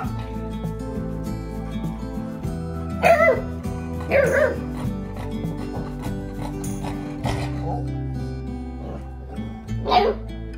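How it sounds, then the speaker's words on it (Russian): A dog gives a few short barks and whimpers at intervals over steady low background noise, fairly close, with no talking. "Какая хорошая собака."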